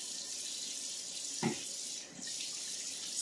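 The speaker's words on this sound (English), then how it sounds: "so I have time to rinse my hands off" Hands rinsed under a running kitchen faucet while cooking fried chicken fingers: a steady, fairly quiet hiss of flowing water with a brief splashing change partway through.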